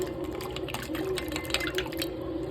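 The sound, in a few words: rinsing homemade butter in water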